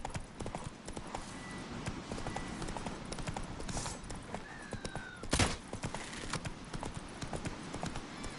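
Roach the horse galloping in The Witcher 3, a steady, rapid clip-clop of hooves running throughout over windy outdoor ambience, with a brief louder thump midway.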